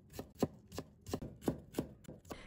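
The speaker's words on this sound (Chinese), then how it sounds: "然后给它切成姜末。" A kitchen knife mincing peeled ginger on a cutting board, with about eight crisp, evenly spaced chops, close and clear with no talk.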